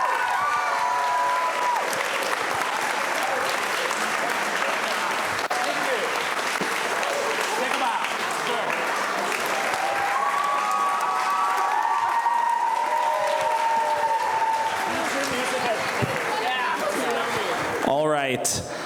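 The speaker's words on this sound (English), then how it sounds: "So let us give another round of applause for our seniors, class of" Long, full applause from the audience at a spring school choral concert honoring the graduating seniors, with scattered cheers and whoops rising above the steady clapping and loud throughout.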